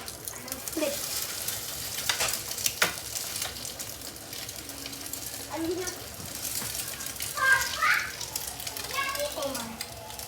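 An omelette sizzling and frying in a pan just after being flipped, a steady hiss close by with occasional clatter and children's voices in the background.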